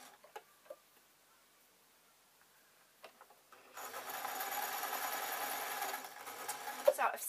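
Domestic sewing machine stitching a straight seam in fabric for a simple scarf top, a steady close whirring hum running for a few seconds after quiet handling clicks, with a voice speaking faintly.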